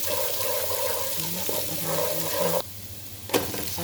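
Chopped garlic frying in a heated wok: a steady loud sizzle with faint stirring scrapes, cutting out abruptly partway through, then a brief clatter before the sizzle resumes.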